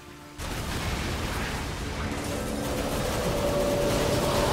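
An enemy explodes in the action game Darksiders 2, a sudden dense blast that swells into a sustained rumbling roar, loud and close, with no voices.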